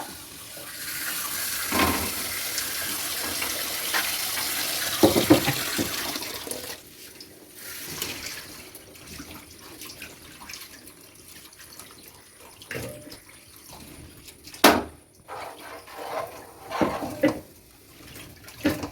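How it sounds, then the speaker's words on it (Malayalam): Tapioca being washed with running water in a home kitchen: a rushing stream at first, then intermittent splashes and clattering as pieces are handled, moderately quiet with scattered louder knocks. "അമ്മച്ചി കപ്പ കഴുകി വാരി കുക്കറിനകത്തേക്ക് ആക്കിക്കൊണ്ടിരിക്കുവാണ്"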